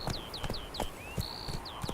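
Hooves of the horse Roach clip-clopping in a video game, a quick steady run of close, crisp hoofbeats roughly four per second, with high chirping tones alongside.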